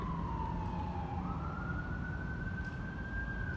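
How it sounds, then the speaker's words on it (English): An emergency vehicle siren on the streets of Reno, a single long wailing tone sweeping slowly down and then back up, heard at a distance over steady traffic and crowd rumble. "With lights and sirens."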